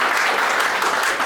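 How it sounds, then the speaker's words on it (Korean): Wedding guests in a church ceremony applauding, a dense, even wash of many hands clapping close by, with no talk over it. "여러분 박수로 축하해 주시기 바랍니다."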